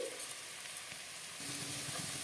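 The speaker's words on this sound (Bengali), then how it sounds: "ঢাকনা লাগিয়ে ভালো করে ভেজে নিতে হবে" Cabbage fries in a pan as a faint, steady hiss of sizzling, with a soft low stirring rumble that rises in the second half and no talk.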